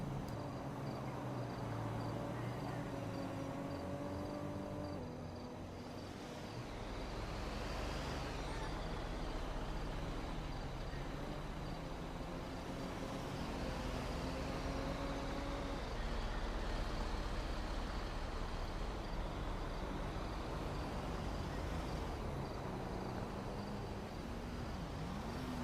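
A heavy vehicle is driven through town in GTA V, its engine droning loud and steady with gear-change pitch sweeps and a faint repeating high beep over rumbling road noise, no voices.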